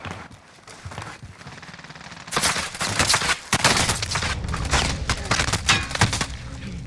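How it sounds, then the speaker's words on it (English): Dense bursts of gunfire in Call of Duty: Modern Warfare, rapid machine-gun fusillades and sharp shots building from quieter distant fire into loud, close volleys lasting several seconds. "They're targeting me. They're shooting at me."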